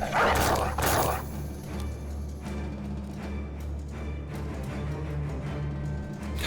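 A dog in a video game gives a couple of short barks near the start, then the sound settles into a low steady background hum.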